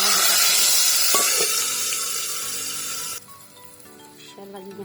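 Loud hissing sizzle of tadka for kadhi pakora hitting hot oil, fierce at first, then dropping abruptly to a quieter crackle.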